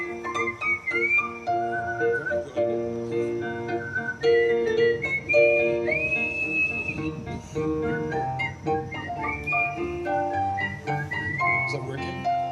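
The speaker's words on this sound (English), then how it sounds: "They whistle." Whistling by people singing: a bright, wavering melodic whistle of rising and falling notes running throughout, fairly loud and close, mixed with voices and background accompaniment.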